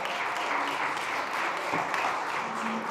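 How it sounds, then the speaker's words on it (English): An audience at a science lecture by a NASA Jet Propulsion Laboratory researcher gives steady, even applause that stays at a moderate level throughout. "Big round of applause for Dr. Gary"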